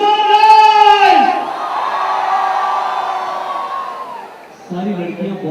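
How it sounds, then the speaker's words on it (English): A college festival crowd roars, whoops and shrieks, loud and sustained, with high piercing shouts at first and a fresh swell of cheering near the end. "Crowd, come on, make some noise!"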